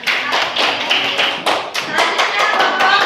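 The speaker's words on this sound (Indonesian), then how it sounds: "Tepuk tangan buat kelompok 2." A classroom of students claps for a presenting group, a dense burst of many hands slapping unevenly, loud and close for the whole stretch with no pause.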